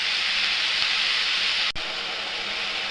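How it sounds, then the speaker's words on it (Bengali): Potatoes, tomatoes and local eggplant fry together in a pan, giving a steady, close, even sizzle with a brief dip partway through and no talking. "একসাথে ভাজা করব।"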